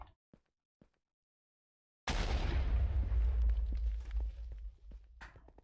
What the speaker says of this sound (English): I just heard an explosion, so that's always scary